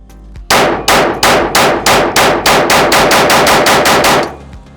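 A Glock 19 pistol firing 100 grain Supervel PCC Blitz ammunition in a rapid string of about a dozen loud, sharp shots that ring out close up. The shots come at a quick steady pace with no voices.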